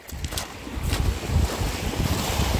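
Sea waves surge and wash around a fishing boat off Hatay, a steady rumbling swell with gusting wind noise across the microphone, no voices.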